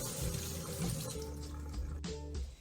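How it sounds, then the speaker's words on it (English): Tap water runs steadily into a colander of fruit being moved around by hand in a kitchen sink, a close, continuous splashing rush with a brief clatter near the end. "put them in my colander, run some water, just kind of move them around with my hand"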